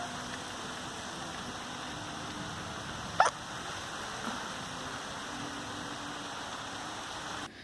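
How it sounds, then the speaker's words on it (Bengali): Steady rain pours down during a thunderstorm with lightning, heard from an open doorway as a constant hiss, with one brief sharp knock partway through and no speech. "বাজ পড়ছে বৃষ্টিও পড়ছে"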